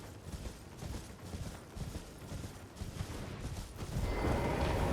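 Horse hooves gallop in the Elden Ring video game as a steady, rhythmic run of muffled thuds at moderate loudness, mixed with game ambience that swells toward the end.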